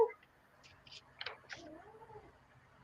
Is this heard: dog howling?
no